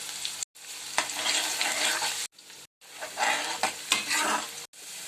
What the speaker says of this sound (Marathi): तेल मस्त गरम झालेलं आहे कांदा टाकायचा पहिला कढीपत्ता टाकूया